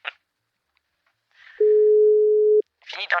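Telephone line tone during an outgoing call: a single steady pure beep lasting about a second, with faint voice fragments before and after.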